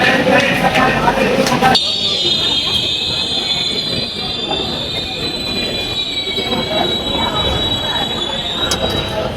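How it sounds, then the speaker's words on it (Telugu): An Indian passenger train on a trip to Kashi begins pulling away, its wheels setting up a loud, sustained metallic squeal over a rumbling rail roar, with voices faintly mixed in. "మా ట్రైన్ స్టార్ట్ అవుతానట్టుంది"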